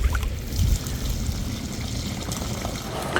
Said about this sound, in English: run some water through here to clean out this pipe